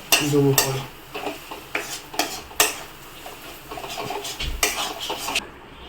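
Chili powder, salt and turmeric are stir-fried in a pan, with a continuous moderate sizzle broken by repeated metallic spatula scrapes and knocks against the pan.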